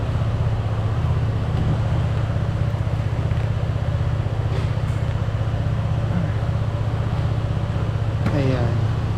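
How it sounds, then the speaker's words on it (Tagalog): A motorcycle engine idles steadily while warming up in an outdoor parking area, a low, even, pulsing rumble heard nearby throughout, with faint wind and a few background sounds mixed in. "Start lang natin yung ating motor para uminit."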